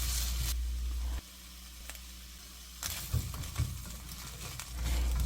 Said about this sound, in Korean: 팬에 올리브유 1스푼 넣고 중간 불에서 2분 정도 볶아주세요.